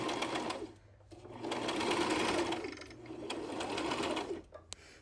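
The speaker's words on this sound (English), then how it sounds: "Usually the sewing machine pulls the fabric as you go." A sewing machine stitching thin, flimsy fabric runs in quick bursts, its rapid mechanical stitching rattling close by, pausing briefly between runs.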